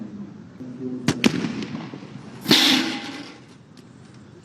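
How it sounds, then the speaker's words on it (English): A Rwandan police sniper fires a rifle shot during a training demonstration, heard as sharp cracks followed by a louder, longer report with a trailing rumble, somewhat distant against an outdoor background. "So, first shot of the sniper."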